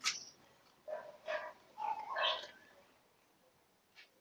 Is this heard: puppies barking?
yes